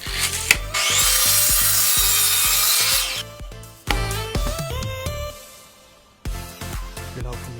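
A saw cuts through wood for a new porch, a long run of rough rasping strokes followed by shorter intermittent cuts and knocks, close and loud.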